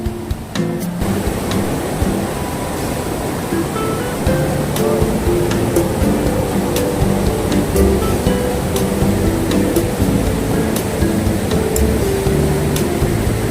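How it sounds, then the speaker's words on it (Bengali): Near Dhanbad, water pours down a waterfall and rushes into a pool below, making a loud, continuous roar that fills the scene without a break; nobody speaks. "জলে আওয়াজ আওয়াজটাই মনটা শান্ত করে দিচ্ছে দেখুন"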